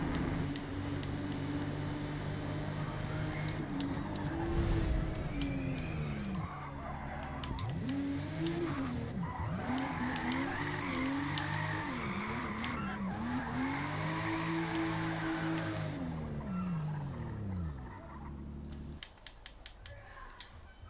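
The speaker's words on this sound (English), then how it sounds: "Put some rubber down in these corners" Tyres squeal steadily through corners in a Toyota Supra during a qualifying lap in Forza Motorsport, with long wavering screeches that rise and fall over a continuous engine drone, loud and close, briefly easing near the end.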